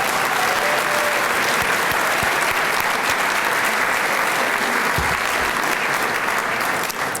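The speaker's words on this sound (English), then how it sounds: "Please join me in a round of applause for all of our special guests." Steady, dense round of applause from a luncheon audience at a Thursday Luncheon Group 40th anniversary event, honoring special guests; sustained clapping fills the room evenly with no talk over it.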